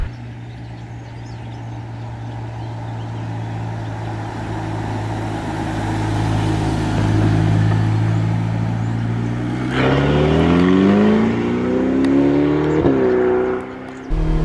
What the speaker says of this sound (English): this is a retractable hardtop convertible. So with the press of this button here, in 14 seconds, we now have an entirely different driving experience.